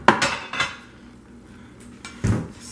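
A spoon and utensils clink against an Instant Pot holding corned beef: two quick metallic clinks, a pause, then a louder clank, close and without talking.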